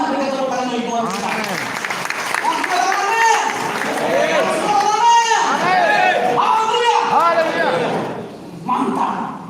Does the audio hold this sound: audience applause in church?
yes